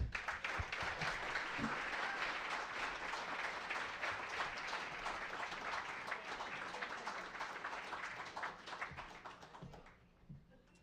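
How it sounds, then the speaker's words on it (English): Steady audience applause fills a saloon for nearly the whole stretch, dense and even before thinning out and fading near the end. "would you please give a big round of applause"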